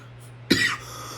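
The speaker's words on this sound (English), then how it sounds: "Sorry about my terrible coughing." A single short, sharp cough, close and fairly loud, breaks an otherwise quiet room.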